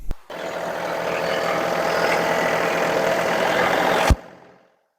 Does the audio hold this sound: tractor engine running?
yes